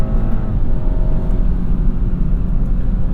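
2021 BMW 430i xDrive engine in sport mode, heard from the cabin as a steady, subdued low hum, well isolated and continuous without sharp revs.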